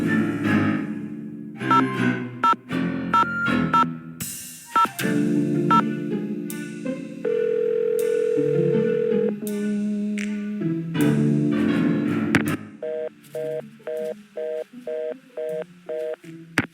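A telephone being dialed in the Nancy Drew video game The Haunted Carousel, with a long sequence of loud electronic tones of varying pitch, some held, ending in a regular run of short repeated beeps.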